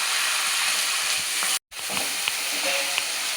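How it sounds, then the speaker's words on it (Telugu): Red chillies tempering in hot oil for a Telangana sesame curry give a steady close sizzle and hiss throughout, with a brief gap of near silence in the middle. "మిరపకాయలు ఇలా మంచిగా ఫ్రై అవ్వాలండి."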